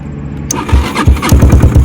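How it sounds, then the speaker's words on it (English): A Raptor 250 ATV engine is cranked by bridging its starter relay, giving a short burst of starter whir followed by a rapid series of loud, rhythmic cranking pulses, close and with no talk. "Yeah, so yeah, starter works."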